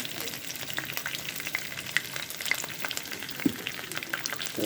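Steady sizzling of onions frying in a pan and starting to burn, a dense crackling hiss with small pops scattered throughout, close and continuous with no talking.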